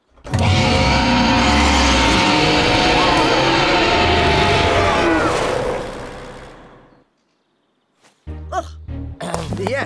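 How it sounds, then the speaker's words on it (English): A toy dinosaur gives a loud, rumbling mechanical roar that sustains for several seconds, then cuts off abruptly; after a short silence, bursts of nearby chatter and rustling follow. "I'm not certain Triceratops would have sounded like that"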